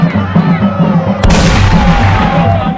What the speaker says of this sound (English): Rhythmic drumming and booming sound of gunpowders.